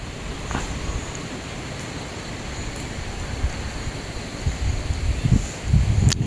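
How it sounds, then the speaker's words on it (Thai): Cool wind blowing steadily past a rice-field hut, a broad soft rushing hiss with gusts and microphone buffeting growing stronger toward the end. "ลมมาครับ"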